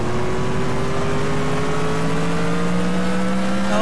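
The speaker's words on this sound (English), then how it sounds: "This car's really loud." A loud car engine in Grand Theft Auto IV roars and drones steadily, its pitch slowly climbing as it revs, filling the clip with no talking.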